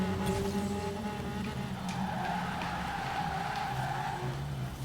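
Handbrake drift in the Forza Horizon racing game, tires skidding and squealing continuously over a steady engine drone through a long corner, loud and sustained with no talking.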